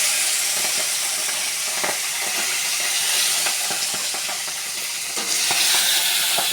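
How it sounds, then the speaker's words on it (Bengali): Fish heads frying in oil over a five-spice tempering, a constant close hiss and crackle of sizzling with occasional scraping and stirring clatters. "ফোড়নটার উপরেই আমি মাছের মাথাগুলো দিয়ে দেবো।"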